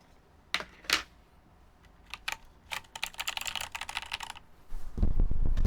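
Fingers tap out uneven bursts on a custom KMAC LE mechanical keyboard, crisp close clacks that start sparse and build into a quicker run of keystrokes, followed at the end by a louder low rumble.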